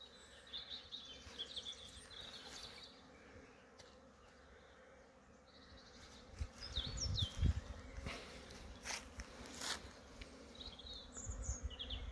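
Bees hum around a beehive outdoors in a faint, continuous drone, with a few louder passes and bumps up close and occasional chirps in the background.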